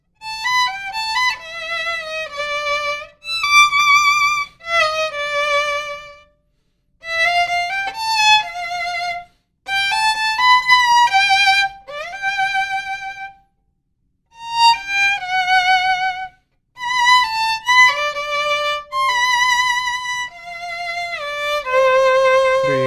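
Solo violin plays a lively mariachi melodic line with slides and vibrato, in several phrases separated by brief silences.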